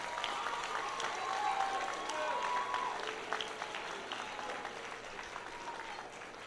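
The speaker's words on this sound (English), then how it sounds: "graduates, if you would take a moment to clap for everyone here, your teachers, your parents, your family, your friends" At a Science Leadership Academy Class of 2026 commencement, graduates break into sustained applause, a dense crowd of clapping hands that rises and then slowly thins over several seconds, heard from a moderate distance.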